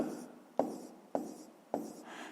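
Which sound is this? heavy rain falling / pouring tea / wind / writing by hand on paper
writing by hand on paper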